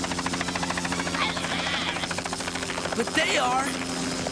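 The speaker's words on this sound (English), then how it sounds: "Haven't you ever seen a helicopter before?" A helicopter's rapid rotor thumping drones steadily in the background while a person speaks briefly.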